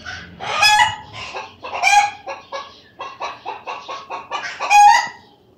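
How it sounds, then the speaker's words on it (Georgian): A hen that has just laid its fifth egg cackles nearby in a rapid run of loud, clipped clucks, with sharper squawks at the start and end and no voices. "აი მე ხუთე კვერცხი დადო იმ ქათამ"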